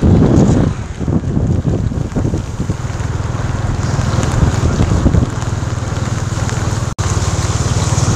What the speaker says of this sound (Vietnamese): cái sức gió thổi ao ao kêu vu vu rất là mạnh các bạn.